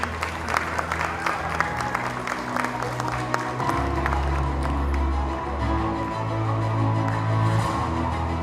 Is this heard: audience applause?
yes